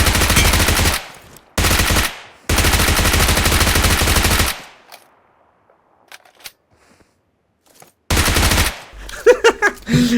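Rapid automatic gunfire from the video game PUBG Mobile, fired into a corpse on the ground in long loud bursts, then a pause with faint clicks before another burst and further shots.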